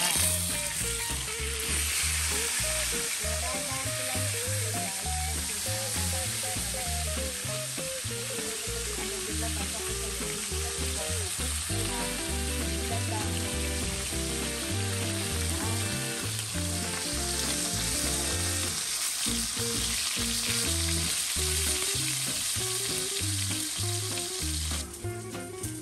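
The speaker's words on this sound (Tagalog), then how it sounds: "dahil na mainit na yung mantika, guys, ay ilalagay ko na itong tilapia" Tilapia frying in hot oil, a loud dense sizzle and crackle filling the whole stretch without letting up, with no one talking.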